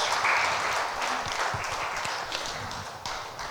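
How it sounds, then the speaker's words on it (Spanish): A church congregation breaks into sustained applause during a worship service, with many hands clapping in a steady, busy wash that neither swells nor stops over a few seconds. "Dele un aplauso al Rey, aleluya."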